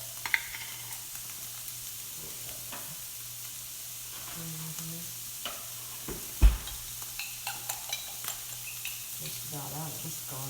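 Garlic sizzles with sausage in a frying pan for stuffed mushrooms, a soft, steady frying hiss over a low hum, with a few scattered utensil taps and a brief murmur of voice.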